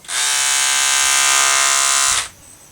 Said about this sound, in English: I like these clippers because they're nice and loud